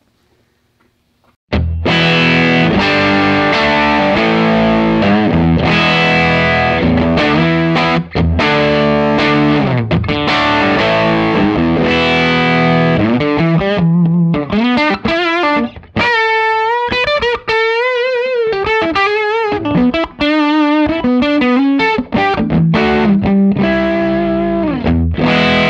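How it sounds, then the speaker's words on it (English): Loud, overdriven electric guitar through a cranked Fender Deluxe Reverb tube amp with gritty crunch, strummed chords giving way to sustained bending lead notes, played continuously with no talking. "let's crank up the volume on the Deluxe Reverb so we can hear how fantastic it sounds"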